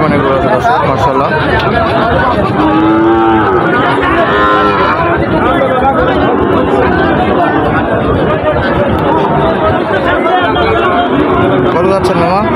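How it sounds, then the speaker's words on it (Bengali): Cattle at a crowded livestock market where Shahiwal cross-bred bulls are being sold, with occasional moos rising over constant loud crowd chatter and nearby talk throughout. "প্রচুর পরিমাণে গরু আছে দর্শক"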